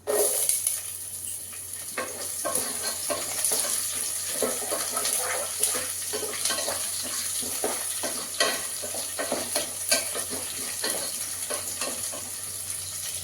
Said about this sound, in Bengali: পেঁয়াজ, আদা, রসুন মশলাটা আমি ভালো করে ভেজে নেব